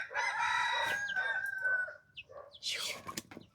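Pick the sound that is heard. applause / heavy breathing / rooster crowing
rooster crowing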